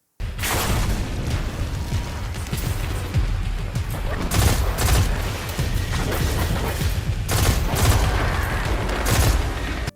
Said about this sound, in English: Destiny 2, for the record, features stunning sound design, a seamless blend of industrial clang and synthetic texture.